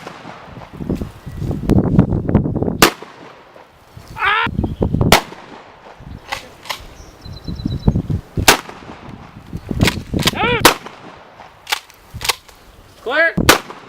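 Shotgun firing buckshot home defense loads outdoors, a series of loud, sharp blasts spaced a second or two apart, some followed by the clatter of a pump action or shells.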